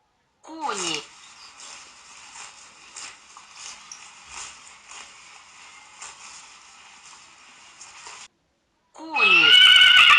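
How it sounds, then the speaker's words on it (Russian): A horse lets out a sharp, close neigh, followed by a long stretch of fluttering, whinnying noise from the horses. After a brief pause, a loud voice cuts in. "Кони."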